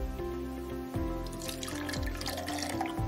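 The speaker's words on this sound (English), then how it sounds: "give it a rinse with some fresh clean tap water" Water runs steadily from a tap with light splashing and dripping as a pH pen probe is rinsed, close by and continuous throughout.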